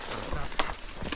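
A horse's hooves shuffle and clop a few times as the mare backs up on a trail in Colorado, a couple of sharp distinct thuds over low outdoor background.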